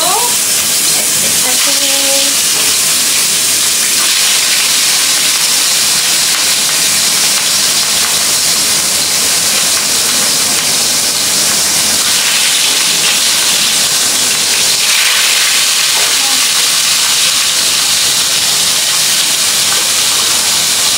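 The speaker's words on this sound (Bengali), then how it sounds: "এখানে সুন্দর করে মাছগুলো ভেজে নিব।" Fish frying in hot oil gives a steady, loud sizzle with a broad hiss, continuous throughout with faint clinks and brief voice-like sounds.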